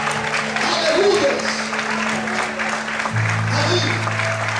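Church congregation applauding during a service, a continuous wash of clapping mixed with voices and a steady low hum beneath.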